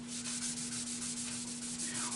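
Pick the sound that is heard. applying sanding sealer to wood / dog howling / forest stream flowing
applying sanding sealer to wood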